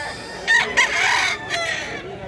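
A large rooster crows loudly and close by, then clucks in short bursts, with the calls cutting in and out over about two seconds.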